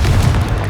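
One short, heavy boom of a Confringo spell explosion in Hogwarts Legacy, loud and close, ending in a brief rumbling tail.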